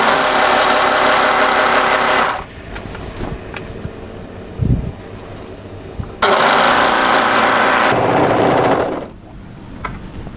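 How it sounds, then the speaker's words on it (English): An overlocker sewing machine stitching a knit top's underarm and side seam in two loud, steady motor bursts, each a couple of seconds long, with a quiet pause between them. "overlock up the underarm and then through the side seam"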